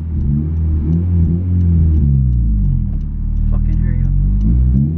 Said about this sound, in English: we get one loud car now, eh?